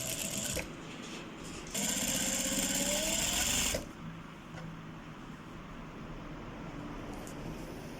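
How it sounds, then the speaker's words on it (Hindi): A sewing machine stitches a fabric front placket. It whirs in short bursts of steady motor hum, with one longer run in the middle, close and clear, and no voices. "इसको यहाँ से सिलाई स्टार्ट कर दें"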